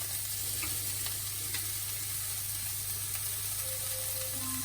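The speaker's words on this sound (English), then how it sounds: "now we're going to add the sauteed broccoli and just incorporate the nuts, the shallots and the garlic with the broccoli" Sauteed broccoli tossed with nuts, shallots and garlic in a hot pan, a soft continuous sizzle with faint scraping and stirring noises, quiet and steady with no talking.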